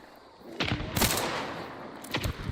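Crown shotgun blasts ring out in a Hunt: Showdown match, a few heavy booming shots spaced apart with a trailing echo, fairly close and loud.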